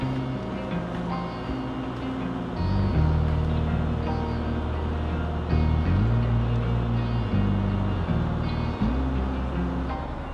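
A tractor pulls a poplar tree with a cable, its engine droning steadily and loudly throughout, with the pitch shifting between lower and higher levels several times as load changes.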